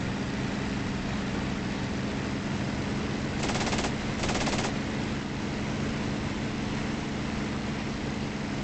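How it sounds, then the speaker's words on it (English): Enemy machine guns fire in two short bursts, one after the other, in the IL-2 1946 flight game, heard over the steady drone of an aircraft engine. "They're firing right at me."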